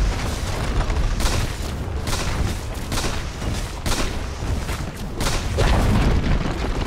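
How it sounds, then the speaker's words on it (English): Tower destroyed in Dota 2: a long run of loud, booming explosions with repeated heavy blasts and crackling debris rolling one after another, fairly close and steady throughout. "Dire's bottom tower has fallen."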